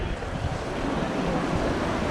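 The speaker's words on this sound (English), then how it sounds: "Look at the waves coming in today." Ocean surf rolling onto Koki Beach on St. Thomas on a rough, windy day with about 20-knot winds, a steady broadband wash of breaking waves with wind noise buffeting the microphone throughout.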